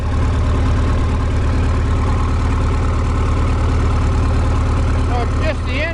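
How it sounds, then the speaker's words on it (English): A Cat D315 diesel engine on a Special SAE 300 x 2 Twin Arc welding machine, with the welder disconnected, idles loudly and steadily up close in a constant deep, throbbing rumble, with a gas leak present. "So it's just the engine. I can't get it to idle down any lower."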